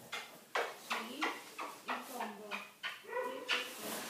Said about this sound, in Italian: Mamma mia, che bel cane, sai